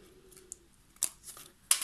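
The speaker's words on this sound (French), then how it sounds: "Je vais venir vraiment découper, mordre à l'intérieur pour venir découper à l'intérieur de mon trait." A few quiet, crisp snips of scissors cutting paper along a pencil line, three short separate cuts spaced apart, close and faint.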